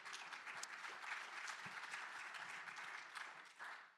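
Steady audience applause fills a fireside-chat event hall, dense even clapping from a crowd holding level throughout before easing slightly at the end.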